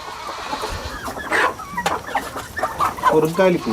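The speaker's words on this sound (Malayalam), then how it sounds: "ഇത് പഴയ തൊപ്പിക്കോഴിയാണ്." Old crested chickens cluck in a short, irregular run of calls close by, mixed with other fowl, with a rooster nearby and some background noise.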